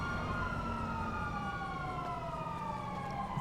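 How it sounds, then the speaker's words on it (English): A police car siren in GTA 5 wails in a steady rising and falling tone over a low road rumble, moderately distant and with no talk. "Why is there a police car here?"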